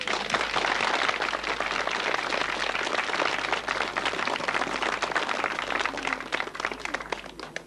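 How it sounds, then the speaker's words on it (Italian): A community gathering in San Salvatore Telesino welcoming a visiting bishop with warm applause, dense steady clapping from many hands lasting several seconds without a break. "Un caloroso applauso"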